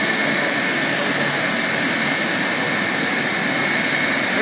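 A steady, loud helicopter engine roar with a broad whine, constant throughout with no breaks, running close by.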